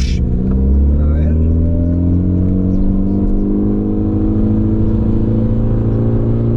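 A Mitsubishi Lancer Evo accelerates hard, its engine holding a loud, steady, harmonic-rich drone close up. A voice is heard over it.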